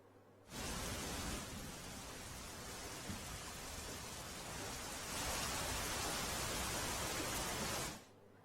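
Heavy rain pours down in Dahod, a dense, steady roar of rainfall that stays constant throughout and grows slightly fuller partway through, with no voices.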